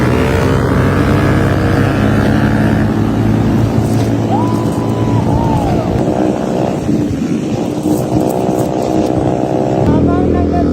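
A motorcycle engine drones steadily and loudly throughout a ride, with wind rush on the microphone and shifting engine pitch, while riders talk over it.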